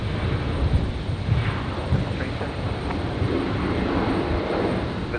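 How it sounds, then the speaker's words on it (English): An Embraer 190 jet at Brisbane Airport on a stormy night gives a steady, broad, moderately distant roar that holds evenly throughout, with no voices. "Heading down to Adelaide, the Embraer 190."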